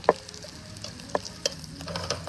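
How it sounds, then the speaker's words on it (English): Garlic bread pan-fries in a hot pan out on a patio, a soft sizzle with sharp scraping clicks as it is stirred or turned. "We're just pan frying it here because we don't have an oven."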